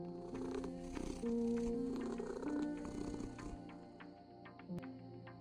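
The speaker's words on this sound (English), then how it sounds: "I didn't know I could still purr." A cat purrs in the video game Copycat, a steady close rumble lasting several seconds under soft tonal game music, with no talking.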